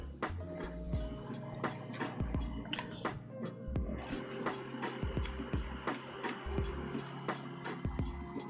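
A Prusa Core One 3D printer running its nozzle cleaning calibration: rhythmic stepper-motor whirs and tonal buzzes rise and fall, broken by repeated short clicks and taps from the moving toolhead.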